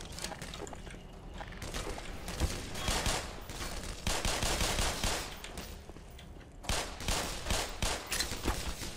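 Dense, loud bursts of gunfire from the first-person shooter Black Mesa fill the scene, with rapid volleys broken by a short lull before more shots.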